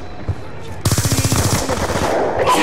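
Gunfire in Call of Duty bursts in after a short quiet: a loud, close rapid machine-gun volley of about a dozen quick shots, then a trailing crackle and noise.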